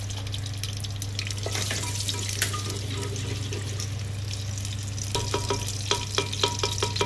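Onions frying in a cooking pot, stirred with a wooden spoon after cumin and asafoetida, sizzle under a steady low hum, with a run of quick rhythmic knocks against the pot toward the end.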